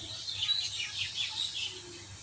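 Small birds chirp in thin, high, brief notes from near a coop housing a pair of pigeons, soft and scattered over light background hiss.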